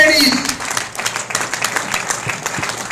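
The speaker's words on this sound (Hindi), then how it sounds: "जोरदार तालियां।" Audience applause at a business event in India, a broad wash of clapping that stays fairly loud and steady for the whole span, with a voice briefly heard over the start.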